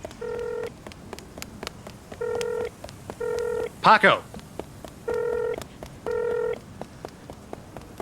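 Phone call tones from a dramatized story: five evenly spaced, half-second electronic tone bursts repeat steadily, with a short spoken word breaking in midway.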